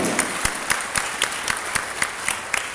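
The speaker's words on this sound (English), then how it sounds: "Big round of applause, everybody." Applause from a conference audience at an SME learning event, a steady dense patter of many hands clapping at close range with no one talking over it.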